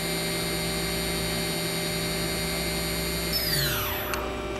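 A Mori NH4000DCG horizontal machining center with a 14,000 RPM Cat 40 spindle, through-spindle coolant and a 60-tool changer runs at speed. It gives a steady, close tonal whine over constant hum, and the pitch drops away near the end as it slows.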